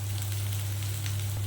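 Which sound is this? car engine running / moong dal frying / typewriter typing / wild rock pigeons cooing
moong dal frying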